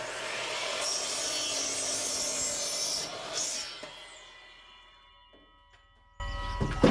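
A miter saw bites through wood at a 45-degree angle with a loud rasping whine, then spins down to near silence before a sharp clunk at the end.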